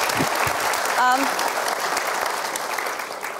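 Steady applause from a studio audience at an Indonesian motivational talk show fills the clip, with a brief voice cutting in near the start.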